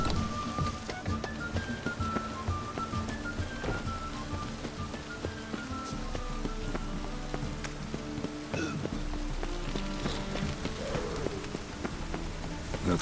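Steady rain patters across the open world of The Witcher 3, with horse hooves clopping along and soft game music drifting underneath the constant drizzle.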